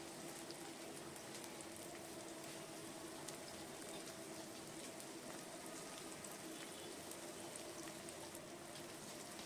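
Chopped onions fry in mustard oil in a pan, a steady, quiet broadband sizzle with a faint crackle that continues evenly throughout, with no talking.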